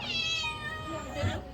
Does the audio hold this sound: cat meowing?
yes